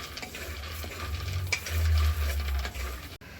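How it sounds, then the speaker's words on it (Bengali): Bori lentil dumplings frying in a kadai with no extra oil, a steady close crackle with scraping and stirring clatter, low rumble underneath and a brief knock near the end; no talking. "আমি এই বড়িগুলো ভেজে নেবো"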